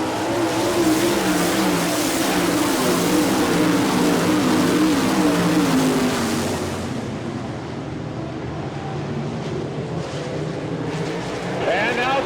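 Sprint cars racing at Port Royal Speedway in an All Star Circuit of Champions Tuscarora 50 make a loud, continuous engine roar that surges and fades as the field passes, while an announcer's voice runs over the noise.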